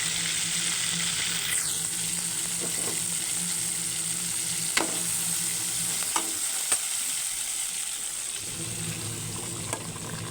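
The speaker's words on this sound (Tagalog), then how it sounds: "Tapos ilalagay ko na po yung aking sutanghon doon sa dito sa munggo." Vermicelli noodles go into a simmering mung bean stew with pork hock and get stirred, giving a continuous bubbling sizzle with a few scraping spoon strokes, close and alone.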